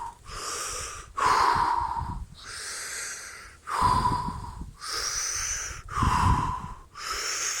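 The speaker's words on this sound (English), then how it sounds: "I breathe." Deep stomach breathing, slow and close, with long airy inhales and exhales alternating in an even rhythm, some breaths rasping slightly.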